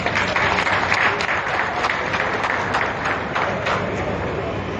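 Crowd applause at a Delhi government DTC bus flag-off ceremony for new interstate buses: a dense, loud, close wash of many hands clapping that holds steady for the whole stretch.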